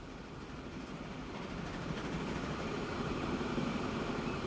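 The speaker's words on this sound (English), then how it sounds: "Alright, so here comes the other train." A train passes in the railway simulation game Transport Fever 2, a broad rumbling rush that grows gradually louder and holds steady as it goes by.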